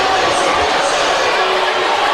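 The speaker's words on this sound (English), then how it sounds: "Crowd is a little unhappy with that call." A volleyball championship crowd in a gym reacts with a loud, sustained wash of disgruntled voices over a referee's call, with no single voice standing out.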